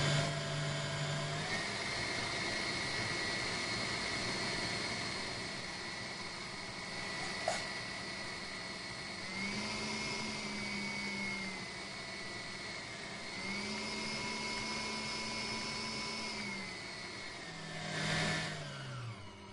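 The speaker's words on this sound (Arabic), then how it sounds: "دي اخر خطوه هستعمل فيها العجانه." A stand mixer kneads sablé tart dough as flour goes in, its motor giving a steady close whir throughout that shifts pitch a few times with changes in speed and load.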